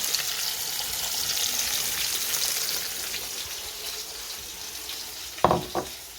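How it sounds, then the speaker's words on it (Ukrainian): Steady crackling sizzle of small crucian carp and perch frying in a pan, with a couple of sharp knocks near the end. "Смажимо рибку."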